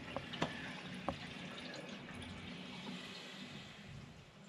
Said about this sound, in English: So it's just refilling the system up now.